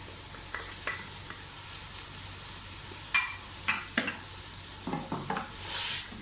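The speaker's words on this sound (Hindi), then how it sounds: "अच्छी तरह से भुनाई कर लें।" Tomato puree cooking with red chili powder, garam masala, salt, roasted coriander, cumin and turmeric for mutton aloo gosht, a soft steady frying under scattered spoon stirs and scrapes, with a louder hiss near the end.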